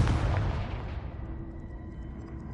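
A Confringo fire spell blast in the video game Hogwarts Legacy: a loud, booming burst that erupts at once, then decays into a rumbling tail that fades over a couple of seconds.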